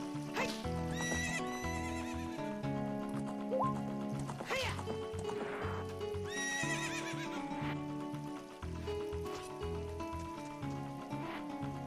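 Several horse whinnies and snorts ring out over continuous game music in The Legend of Zelda: Ocarina of Time on N64, with clip-clop hooves in the mix.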